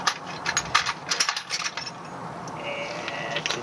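Socket wrench ratcheting on the brakes of a Bedford truck, a close run of quick metallic clicks over about three seconds, then a fainter, steadier tone.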